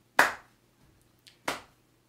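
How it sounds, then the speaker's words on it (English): Two single sharp hand claps spaced a little over a second apart in a quiet room, close and crisp, each decaying quickly, with a faint soft tap just before the second. "We want to clap to the rhythm."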